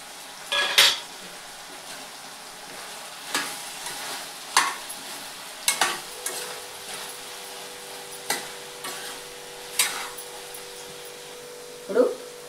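Tamarind goes into a pan of okra chutney and gets stirred, bringing sharp, scattered clinks and scrapes of a spoon against the pan every second or so over a faint, steady sizzle.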